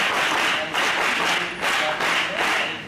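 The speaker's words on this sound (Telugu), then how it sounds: "మన ఏఎస్ఐ గారి గురించి అందరూ ఒకసారి చప్పట్లు కొట్టండి" A crowd of schoolchildren applauds together at a government school function in Puranipet, Jagtial. The clapping is dense and continuous, fairly loud and close, with small swells and dips in intensity, and no voices are heard.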